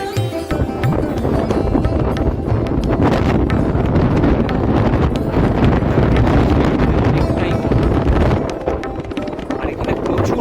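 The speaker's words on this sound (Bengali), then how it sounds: "আর এখানে প্রচুর হাওয়া, প্রচুর হাওয়া।" Strong wind buffets the microphone at a rocky seaside spot near Vivekananda Rock in Kanyakumari, a loud, continuous roar filling the whole stretch with only a brief dip near the end.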